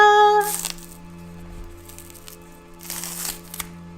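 Plantain skin is peeled away in two bursts of crisp, close crinkling and tearing, separated by a quieter stretch with faint rustles over a low steady hum.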